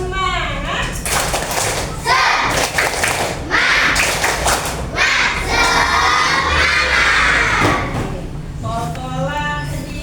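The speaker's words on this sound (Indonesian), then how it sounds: "Tepuk semangat." A classroom of children chants the tepuk semangat clapping routine together, loud overlapping young voices shouting in rhythmic bursts with claps throughout, close and energetic.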